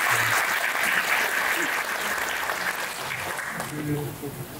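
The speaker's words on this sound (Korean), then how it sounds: "네, 다시 한번 큰 박수 좀 부탁드리겠습니다." Residents clap at a community briefing on a Mokdong apartment redevelopment plan, a steady, fairly loud round of applause that holds throughout and eases slightly near the end.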